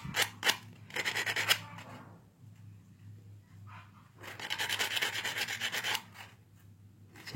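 Sandpaper rasps against a rusty brass pin of an old electric fan in short repeated bursts, close and fairly quiet, with a longer stretch of steady back-and-forth rubbing after a pause.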